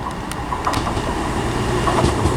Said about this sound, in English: the first train to arrive is going to be the 1217 cross-country service from Bournemouth to Manchester Piccadilly